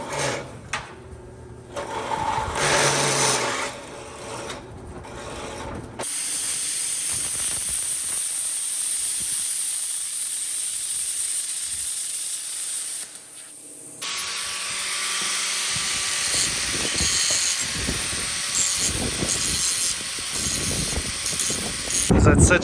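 A budget plasma cutter from Amazon cuts metal tabs with a loud, steady hiss and buzz that runs in long stretches, broken by short pauses and clicks, and someone talks at times.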